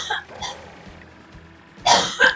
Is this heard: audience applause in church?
no